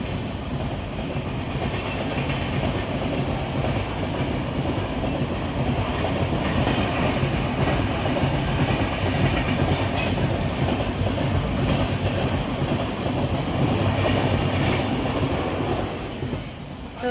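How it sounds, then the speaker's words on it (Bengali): A train rolls past, seen from a home kitchen on a sunny morning, with steady, loud broadband rumble and faint clickety-clack of the wagons, sustained for the whole stretch and easing slightly at the end. "আর ওই দিকে দেখো ট্রেন যাচ্ছে।"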